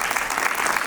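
A brief burst of audience applause at a school annual day event, dense clapping from a crowd filling the moment.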